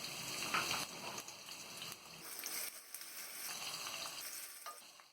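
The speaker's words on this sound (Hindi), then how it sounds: "सबसे पहले हम तेल डालेंगे, प्याज डाल के प्याज हम तल लेंगे।" Onions frying in hot oil for a Hindi-style mutton parche, giving a steady, close sizzle with crackling pops and occasional stirring scrapes, alone and without talk.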